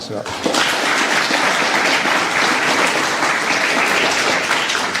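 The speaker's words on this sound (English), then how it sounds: "could we have a round of applause for her?" An audience applauds at an indigenous-achievement event during Reconciliation Week, dense steady clapping filling the whole stretch close and loud after a brief quieter start.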